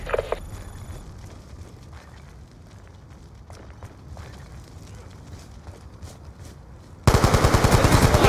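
Rapid automatic gunfire from Call of Duty Black Ops 2 on Wii U, scattered shots and faint bursts under background battle noise, then a loud close burst of repeated machine-gun fire at the very end.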